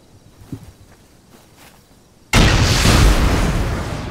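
A rocket explosion in a video game raid bursts in loud and sudden after quiet footsteps, then a sustained roaring rumble carries on to the end.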